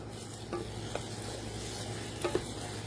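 Spoon stirring Spanish rice ingredients in a pan, with diced green chilies among them, faint scrapes under a steady low sizzle and a couple of brief louder knocks near the end, no talking.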